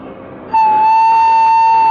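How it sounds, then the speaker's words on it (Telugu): A train sounds a loud, sustained horn close by as it arrives at a station, rising abruptly over a quieter rumble and holding steady to the end. "ట్రైన్ వస్తున్నట్టుంది"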